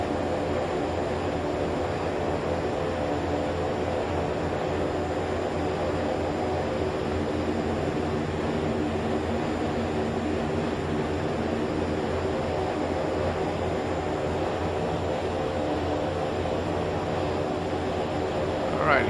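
A Pilatus PC-6 Turbo Porter turboprop in the X-Plane 11 flight simulator holds a steady, loud engine drone with a broad hissing wash, unchanging for the full stretch.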